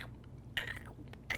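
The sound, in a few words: voice imitating a panda crunching bamboo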